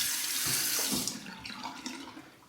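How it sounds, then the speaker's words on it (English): Hot tap water runs steadily into a sink as a ceramic shaving bowl is warmed under it, a full hissing splash that thins slightly partway through as the bowl shifts in the stream. "My Shave Nation ceramic bowl, I'll warm that under the hot water"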